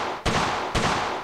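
Two single shots from a Tavor 21 bullpup rifle in the World of Guns game, each a sharp, loud crack with a short noisy tail, spaced about half a second apart.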